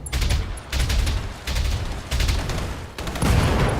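A mech sniper weapon fires in the Battletech video game, with a Marauder taking the shot: a rapid series of heavy, loud thumping bursts in quick succession, each with a short rumbling tail.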